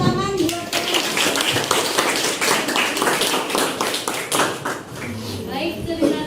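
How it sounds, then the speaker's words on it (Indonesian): An audience claps after a school coaching presentation, a steady patter of hands close by with people talking over it throughout. "boleh beri tepuk tangan buat"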